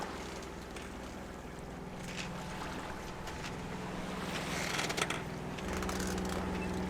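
A sailboat motoring under engine power on a calm, windless day at sea, with a steady low engine drone and hull hum running throughout, water washing faintly around it and occasional mechanical rattles, no speech.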